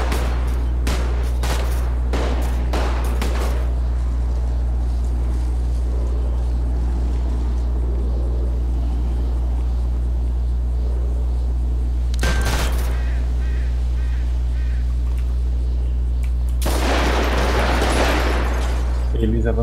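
Bursts of rapid gunfire crackle in quick clusters over a steady low engine drone, with quieter stretches between the volleys, during a police pursuit of a drug dealer through alleys.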